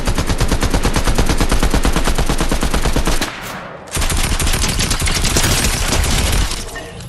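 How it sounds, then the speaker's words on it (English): A Fortnite player's own gun fires in long, rapid automatic bursts, loud and close, broken by a short pause for reloading before the shooting resumes. "I see my gun shooting and reloading"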